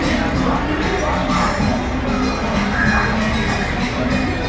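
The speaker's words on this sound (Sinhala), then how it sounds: "ගොඩාක් සෙනග හිටියා මෙතන." A dense crowd of people waiting at a bus stop in Sri Lanka, steady loud babble of many overlapping voices throughout the clip.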